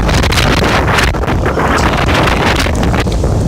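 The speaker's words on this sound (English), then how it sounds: "it's really windy." Strong wind buffets a microphone outdoors in the rain, a loud continuous roar of rumbling gusts that fills the whole clip with no clear voices.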